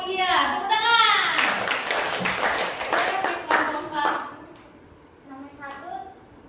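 A classroom group claps hands in a short burst of applause, mixed with voices talking over and after it.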